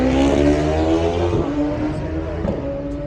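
A BMW superbike ridden by a newcomer at the Isle of Man TT races screams past at close range, a loud, sustained high-revving engine note that dips in pitch as the bike goes by, with a commentator voice underneath.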